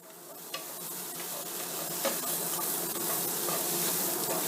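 Curried rice with sweet potato and prawns frying in a pan, a steady bright sizzle with faint stirring scrapes, close and continuous.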